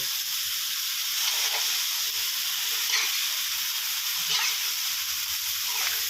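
Squid and minced pork stir-frying with holy basil and dried chilies in a hot pan, a steady close sizzle and hiss with soft scraping stirs recurring every second or so, no talk.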